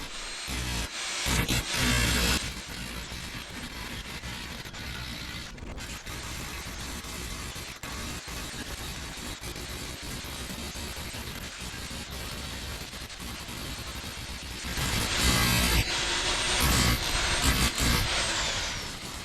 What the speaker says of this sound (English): So you actually have to hammer drill it off.